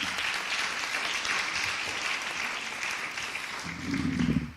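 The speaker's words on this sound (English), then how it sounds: "Let's just give her a round of applause." Steady, dense applause fills the room at a school district celebration honoring women, even and sustained with no voices on top, swelling slightly near the end.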